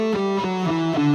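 A guitar plays a short run of four clean, ringing notes stepping through the A Dorian mode, close and moderately loud, each note sustaining briefly into the next.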